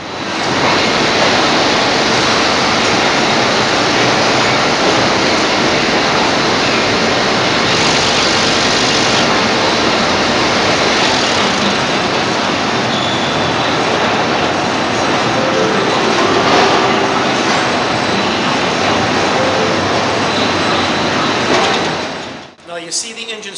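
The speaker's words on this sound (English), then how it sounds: "here is where the Indromat starts to drive the engine" Factory cold test stand with an engine being motor-driven and spinning up: a loud, steady broadband mechanical roar with a whirring hum, holding constant for over twenty seconds before cutting off abruptly at the end.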